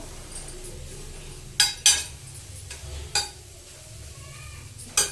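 Grated carrot for halwa frying in ghee, a faint sizzle punctuated by several sharp metallic clinks and scrapes of a spatula against the pan, heard up close with no speech.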